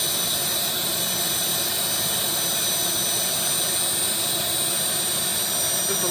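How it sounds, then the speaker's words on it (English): A small model turbine engine, a Starwood Lama turbine, runs steadily with a loud, continuous high-pitched whine and roar that holds at an even level throughout. "Just a little turbo with a little brake."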